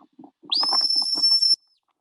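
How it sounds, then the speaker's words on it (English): A shepherd's single sharp, high-pitched command whistle to sheepdogs rises quickly and holds steady for about a second, loud and close, over a soft low rumble of background sounds. "Now the command he's whistling"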